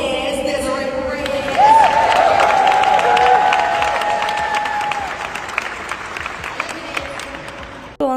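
Applause from a crowd at a gala, a dense sustained clapping that rises and holds throughout, with a faint tonal sound passing briefly through the middle.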